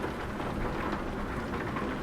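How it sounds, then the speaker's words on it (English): Steady rain drums on the metal roof of a truck cab in a truck driving game, a dense, even patter with a low rumble underneath, loud and continuous throughout without pause. "And you also hear the rain hitting the metal roof of the truck."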